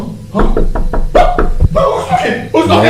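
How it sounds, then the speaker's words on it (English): Knocking at a window of a house, a series of sharp raps heard up close against a busy background of voices and other sounds. "I heard a knock at the window of the house."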